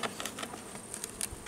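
Honey bees buzz steadily at an opened hive compartment during an early-September inspection of swarms, a close, continuous insect drone with no talking.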